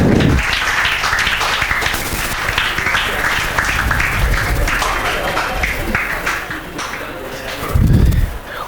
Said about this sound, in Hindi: लोकराज ठाकुर के लिए जोरदार तालियां।